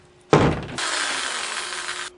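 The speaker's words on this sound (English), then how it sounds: "let's get back to drilling some wood." Wood is drilled by hand in a mock woodworking workshop: a sharp initial bite, then a steady rasping grind that holds for over a second and stops abruptly.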